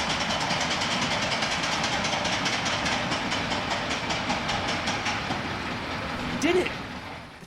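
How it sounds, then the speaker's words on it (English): A train runs along its track with a steady, loud rolling rumble and faint rhythmic clatter of wheels, continuing throughout, while a voice briefly sounds near the end. "The train's on the right track."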